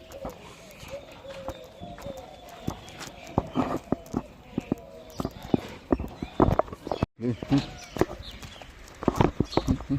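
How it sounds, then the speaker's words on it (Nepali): Cattle let loose and walking out along a rural village footpath, their hooves clopping in an irregular, close rhythm, with occasional faint voices and rustling mixed in. "गाई बस्तु खोलियो। गाई बस्तु लाग्यो बाटोतिर।"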